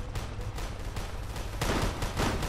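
Gunfire in the tactical army game Colonel Clone Armies: a dense, loud fusillade of overlapping shots that keeps going without a break, swelling heavier toward the end.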